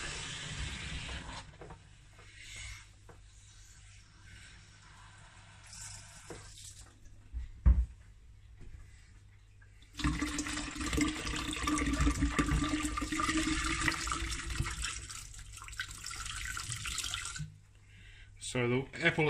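Water pours steadily for several seconds into a vinegar eel culture, a broad rushing hiss that starts abruptly and then cuts off, with quieter handling sounds before it.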